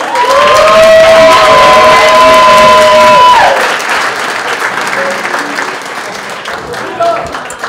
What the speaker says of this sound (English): Again, one more round of applause.